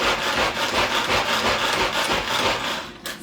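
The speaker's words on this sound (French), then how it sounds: "Mon parmesan est râpé, donc ça c'est top. On peut encore un petit peu le hacher." A knife rapidly chops grated parmesan on a board for a carrot crumble topping, a dense, fast, continuous run of close scraping taps.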